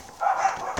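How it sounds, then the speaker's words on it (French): A dog barks once or twice indoors, a short, fairly loud burst that stands apart from the quiet room. "excusez-moi pour les aboiements"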